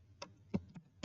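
Typing on a computer keyboard while setting up a DNS server, four separate close keystroke clicks spaced irregularly over about a second.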